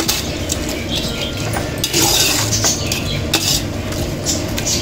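Tomatoes with ginger and garlic are sautéed in a pan for quail biryani, with continuous stirring, scraping and clinking of a metal spoon close up over a low, steady cooking hiss.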